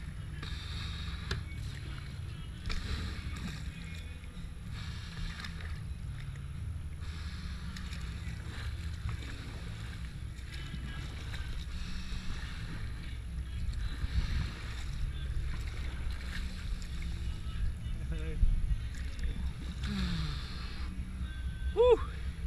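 Kayaks paddled toward the finish of a river race at Elizabeth Quay, with steady low water and wind rumble, faint rhythmic paddle strokes and distant crowd noise throughout.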